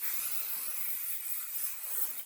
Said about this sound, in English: I'm going to take some very basic basting spray